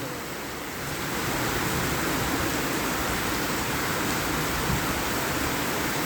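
Heavy rain pours down in a dense, steady roar, quieter for the first second and then swelling to a constant full wash that carries on without a break.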